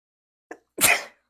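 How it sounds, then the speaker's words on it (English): A single sneeze set off by Cajun seasoning in a kitchen while a shrimp boil is being cooked, with a short intake of breath and then a sharp, loud burst, close by in a quiet room. "And now I'm sneezing when she opens the pan."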